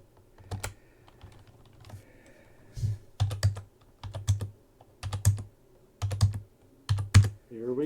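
Keys clack on a computer keyboard picked up by a streamer's mic, arriving in short clustered bursts of sharp, close strokes separated by brief pauses, with no talking.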